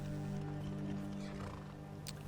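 A horse in the video game Skyrim, with a whinny and hoof movement over a steady low hum of game ambience, fairly faint and without speech.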